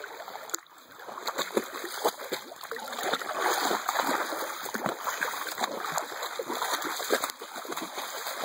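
A four-month-old female Cane Corso puppy splashing in water outdoors, with continuous sloshing and splatter at close range and no speech.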